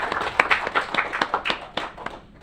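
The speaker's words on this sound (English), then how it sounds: "I think this is the part where everybody here claps" Applause at a city council workshop: a steady patter of hand claps from a small audience, fairly close and continuous, then fading out at the end.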